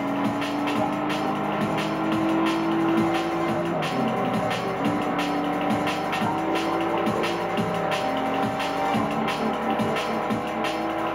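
Racing cars in the video game Test Drive Unlimited, a D-class car keeping pace with an A-class car, give a steady, sustained engine drone that rises and shifts in pitch with gear changes, with sharp ticking clicks over the top.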